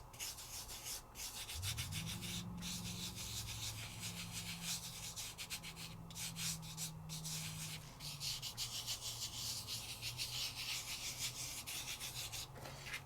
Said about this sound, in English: Rub it into place.